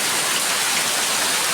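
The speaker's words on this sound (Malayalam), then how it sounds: "പുറത്ത് നല്ല മഴയാണ്" Heavy rain pours outside in a dense, steady hiss, loud and close, with no voices.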